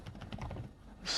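Soft, quick clicking of keys tapped in a rapid irregular patter, quiet and close, ending with a brief hiss.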